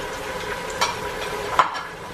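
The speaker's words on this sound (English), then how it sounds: "I'm going to put the meat in." Goat chops frying in a hot pan with garlic and ginger, a steady sizzle with a couple of brief scraping stirs over the continuous hiss.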